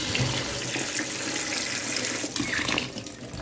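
Tap water runs steadily into a kitchen sink to soak fish, a continuous close splashing stream with no talking.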